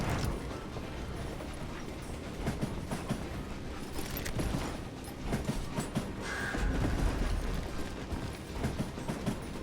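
A train rolls steadily along its rails in Call of Juarez Gunslinger, a dense continuous rumble with rhythmic clickety-clack of wheels over track joints and mechanical rattling, loud and close throughout with no talk.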